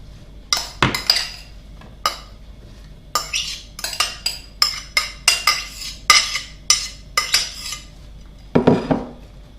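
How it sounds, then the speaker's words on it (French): Apple, pear and chocolate crumble topping tipped and spooned into a gratin dish, a steady run of close, sharp clinks and scrapes of utensil against dish, alone without talk. "il n'y a plus qu'à mettre dans mon plat à gratin."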